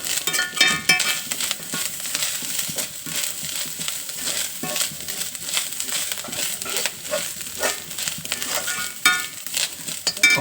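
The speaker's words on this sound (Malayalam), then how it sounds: "വറുത്തെടുക്കുക" Coconut roasting in a pan with horse gram, tamarind and shallots, a steady dry sizzle broken by frequent scraping and stirring scratches of a spoon against the pan, close and continuous, with no talking.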